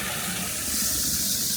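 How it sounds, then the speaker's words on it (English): Steady broadband rush of falling water from a waterfall beside a resort pool in Siquijor, Philippines, surrounded by greenery; a continuous, fairly close splashing hiss that swells slightly halfway through, with no voices. "and the nice sound of the waterfall."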